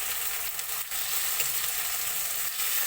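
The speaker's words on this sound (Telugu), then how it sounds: "ఆ కట్ చేసిన టమాటాలు మనం వేసుకొని ఫ్రై చేస్తామండి." Chopped tomatoes frying with onions in a pan, a steady dense sizzle that runs without pause for the whole stretch, close and fairly loud with no talking over it.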